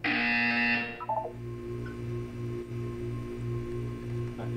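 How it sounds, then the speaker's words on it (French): A wake-up ringing alarm from the video game Portal 2 sounds as a loud, bright electronic ring for about a second, then gives way to a steady low pulsing hum that repeats rhythmically. "Vous allez entendre une sonnerie."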